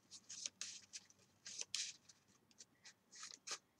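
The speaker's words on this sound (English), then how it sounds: "So let's just shuffle." A deck of trading cards is shuffled by hand in a quiet room, with repeated crisp riffling bursts in quick uneven runs, close and fairly soft, with no talk.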